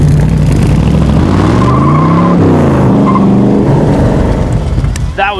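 A 1965 Shelby Continuation Series car is driven hard, its loud engine climbing and falling through revs in a steady close roar that runs the whole time with no talk over it.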